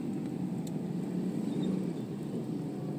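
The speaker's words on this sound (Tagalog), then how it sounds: "Daming sasakyan." Heavy road traffic with many vehicles, a steady low engine drone close by that stays even and constant throughout, with no voices.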